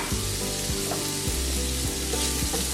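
Onions sizzling with ground beef in a pan, a loud close sizzle with regular rhythmic scrapes of a spatula stirring the mixture.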